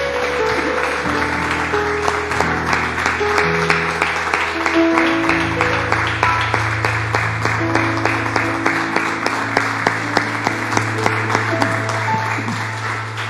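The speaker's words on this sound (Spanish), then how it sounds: "Denle un aplauso al Señor" A church congregation claps steadily at a Spanish-language service, a dense rhythmic applause of many hands sustained for several seconds with a low organ or keyboard chord underneath.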